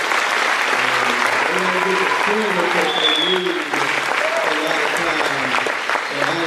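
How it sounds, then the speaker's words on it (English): Banquet audience at a school athletic awards night applauding the coaches' spouses, sustained loud clapping from a large room with voices talking and cheering underneath. "So give these guys a round of applause"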